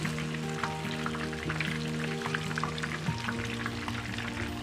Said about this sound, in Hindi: एक साइड से फ़िश जो है फ्राई हो चुकी है।